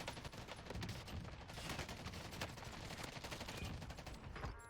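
Dense, continuous gunfire from a Warzone match, rapid bursts of shots layered into a near-constant loud barrage with no talking.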